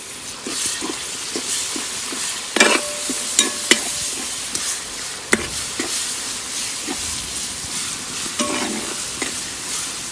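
Tomatoes tipped and stirred into onions frying in leftover chicken-frying oil for a green biryani, with a steady loud sizzle and a few sharp spoon scrapes and knocks against the pan.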